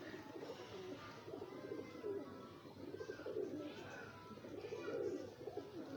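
Several pigeons coo in low, repeated rounded calls, a steady near chorus of overlapping coos with faint chirps over constant background noise.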